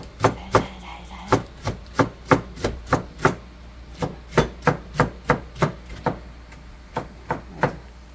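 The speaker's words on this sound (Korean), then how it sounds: "칼질도 잘해요." Rapid, steady knife chops striking a cutting board while preparing cucumber and eggplant, about two to three per second, close and crisp with brief pauses.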